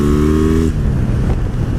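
A Kawasaki W800 motorcycle idles with a strong low harmonic engine rumble, then the tone drops away into rougher, broadband road and engine noise as it moves off, loud and close.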